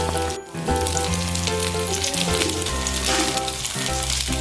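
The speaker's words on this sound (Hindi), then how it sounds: "एक साइड से फ्राई हो गए हैं, दूसरी साइड से ये इसका फ्राई हो गया है।" Potato cutlets (aloo kabab) fry in hot oil in a pan with a steady, loud, close sizzle that keeps going throughout, with no talking.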